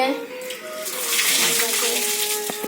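Water splashes and pours steadily during a bath at home, a close continuous wash of noise with a voice and other talk faintly underneath.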